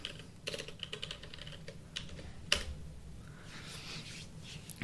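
Typing on a computer keyboard, with quick close key taps in short bursts and a louder clack partway through, over a faint steady background hum and no talking.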